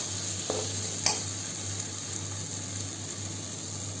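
Okra sabzi stirred in a pan over a low flame, a soft continuous sizzle under a steady hum, with a couple of brief scrapes and taps from the spoon near the start and no voices.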